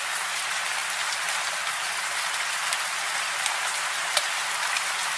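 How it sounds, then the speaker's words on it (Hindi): Steady rain falls with a dense, hissing patter, and occasional sharper drops tap close by. "बारिश रुकने का नाम ही नहीं ले रही है।"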